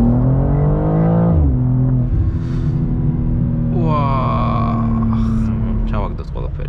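A BMW M2 accelerates hard on the German autobahn, its engine note rising steadily through the gears with clear upshift breaks, loud and close from inside the cabin as someone talks over it.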